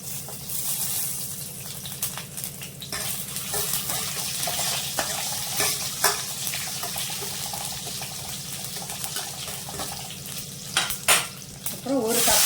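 Steady sizzling of chopped garlic frying in hot oil, with occasional stirring clinks and scrapes of a utensil against the pan, continuous and close.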